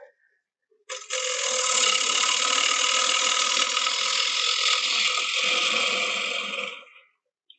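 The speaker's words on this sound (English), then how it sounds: "This is a round tip carbide tool." A round tip carbide tool cuts a spinning wooden candy dish on a lathe, a loud, steady hiss-like scraping that starts abruptly, holds for about six seconds and then fades as the cut ends.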